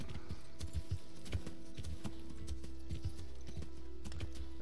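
Horse hooves clip-clop steadily in the Kingdom Come: Deliverance video game, a rhythmic series of hoof strikes on the ground at moderate loudness over a low steady ambient hum.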